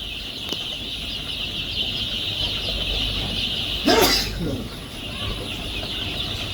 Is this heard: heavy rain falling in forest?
no